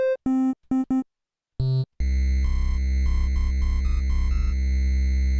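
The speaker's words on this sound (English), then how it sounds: "Triangle, this is the bass for the Nintendo." Chiptune tones from a Nintendo NES sound chip play: a few short bleeps, then a sustained buzzy low triangle-wave bass line with stepping notes beneath bright layered synth tones, like an 8-bit game soundtrack.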